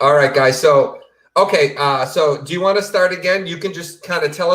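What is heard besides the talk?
No everyday noise stands out behind the speech.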